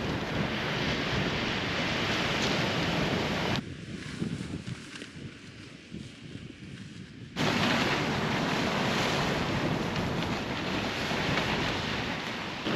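Strong wind buffets the microphone on an Atlantic Ocean beach, a loud broadband roar that drops briefly for a few seconds before gusting back at full strength.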